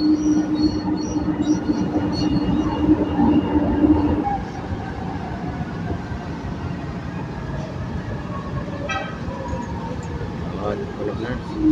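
A train at Ortega Station, a steady rumbling roll of railcars with squealing wheel tones that eases off partway through, with people talking nearby.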